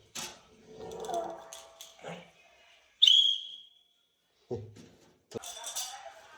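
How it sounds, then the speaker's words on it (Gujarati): A toy whistle from a Shivratri village fair gives one sharp, shrill blast, with people talking before and after it. "ચા પીવા બોલાવવાનું હોય ને તો સિસોટી વગાડવાની."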